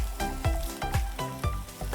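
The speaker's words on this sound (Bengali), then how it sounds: "আমাদের মোটামুটি ভাজা হয়ে গেছে" Chira (flattened rice) and vegetable donuts frying in oil, heard as a continuous close sizzle beneath a rhythmic pulsing background that repeats every half second or so, with no talk.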